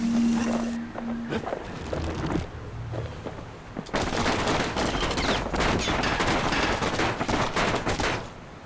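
Enemy gunfire in the action game Bastion, a dense, loud burst of rapid shots that swells after a quieter start and keeps crackling to the end, with no speech.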